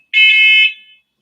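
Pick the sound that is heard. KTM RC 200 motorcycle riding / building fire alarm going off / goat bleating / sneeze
building fire alarm going off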